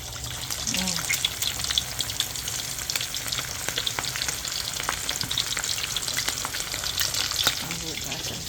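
Chicken sizzles and crackles steadily in hot oil for a home Kentucky-style fried chicken dinner, a close, continuous frying hiss with small pops and a brief clink of stirring.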